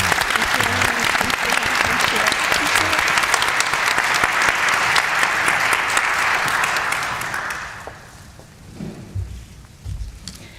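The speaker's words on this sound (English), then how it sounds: "please join me in a round of applause for our panelists." A large audience applauds the panelists at a public forum on sex trafficking, loud sustained clapping for about seven seconds before it fades, leaving a quiet room with a few scattered sounds.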